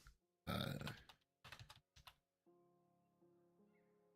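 Several quick bursts of keystrokes on a computer keyboard, close and fairly loud, stopping after about two seconds, followed by soft background music with sustained tones.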